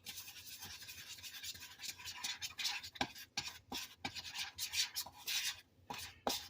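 Buttermilk being stirred slowly for Southern biscuits, a soft scraping, rubbing swish against the bowl with irregular strokes and a few sharper taps, close and fairly quiet with no talking.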